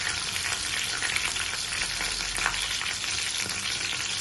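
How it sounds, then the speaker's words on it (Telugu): Cumin, curry leaves and onions sizzle steadily in a hot kadai, a dense, continuous frying hiss close up and unbroken for the whole stretch, with no voices over it. "ముందుగా ఒక కడాయి పెట్టుకొని కొద్దిగా జీలకర్ర, కరివేపాకు, ఆనియన్స్ వేసేసుకొని మంచిగా ఫ్రై చేసేసుకోవాలి."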